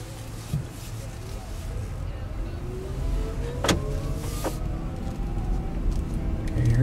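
Inside a moving Honda FCX Clarity hydrogen fuel cell car, a steady low cabin hum and road rumble with faint whirring tones and a couple of brief clicks.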